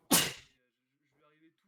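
A single sharp human sneeze, loud and close, followed by a brief faint murmur of speech.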